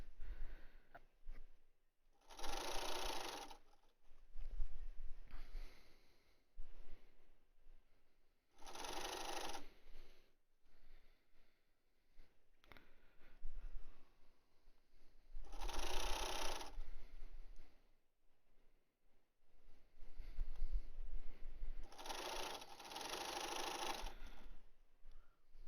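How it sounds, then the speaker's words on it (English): A sewing machine zigzag-stitches the edge of a fabric mask in short separate bursts of rapid mechanical chatter, about five runs with quiet pauses between, close by. "I'll zigzag this edge to make sure I'm catching it"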